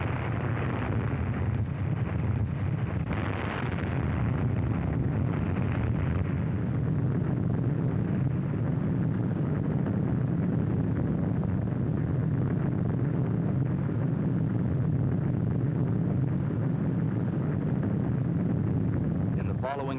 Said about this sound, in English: Bomber is over the target, the bomb is away, and 1 second to go.